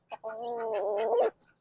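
A pet chicken named Uber, a hen being held, gives a drawn-out, wavering cluck lasting about a second, close and clear, with a short soft peep at the start and a brief one after.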